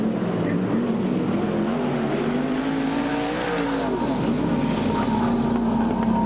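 Race cars, including car number 79, charge past the checkered flag at the end of a heat race, a continuous loud engine roar with a pass-by swell near the middle, steady throughout.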